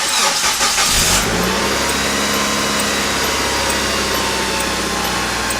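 A 2003 Hyundai Santa Fe cranks briefly, then fires and settles into a steady idle, heard up close with no talking.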